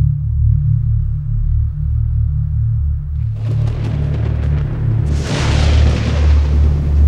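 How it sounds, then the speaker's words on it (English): A medium-sized meteorite strikes the Earth in a loud, deep explosion: a low rumbling drone builds into a sudden blast around three seconds in, then a second, brighter roaring burst that keeps thundering to the end. "A medium-sized meteorite crashed into the Earth."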